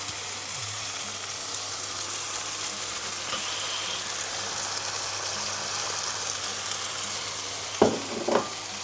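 Chicken and potatoes frying in a pan as mushrooms are added, a steady close sizzle with a couple of soft knocks and stirring scrapes near the end.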